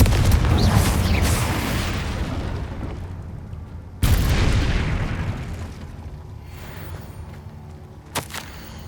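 Two heavy booming blasts from the Confringo spell in the video game Hogwarts Legacy, each with a long rumbling decay, followed by a sharper smaller crack near the end.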